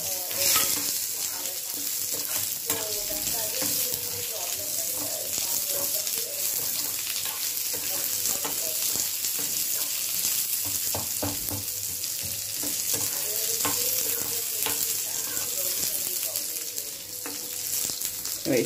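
Onion sizzling as it fries and is stirred in a pan while making chutney, a steady close crackle with scraping stir strokes throughout, no talking.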